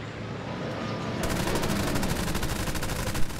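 Aircraft machine guns fire in War Thunder during a dogfight, a sustained rapid stream of shots over loud engine roar, close and continuous.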